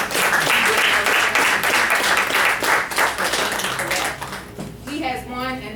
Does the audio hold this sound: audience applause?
yes